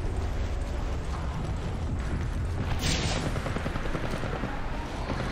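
Dense, continuous gunfire from the Apex Legends Mobile video game fills the clip loudly, an unbroken roar of rapid shots and booms with no clear pauses.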